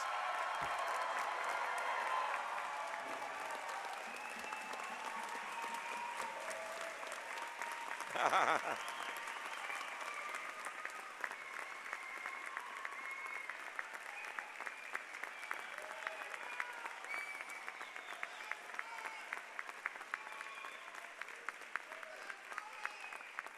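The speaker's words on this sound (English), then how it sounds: "Everybody stand and give them a round of applause." A university graduate commencement audience applauds the graduates in a long, sustained wash of clapping filling a large hall, with a brief louder burst partway through and faint crowd murmur underneath.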